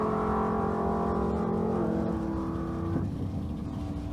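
A street car drag racing run at Las Vegas, a GT car roaring steadily at high revs with a continuous loud engine drone that shifts pitch near the end, with no voices over it.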